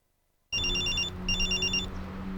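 A telephone rings close and loud, two bursts of a bright warbling electronic ring, starting abruptly after a moment of silence.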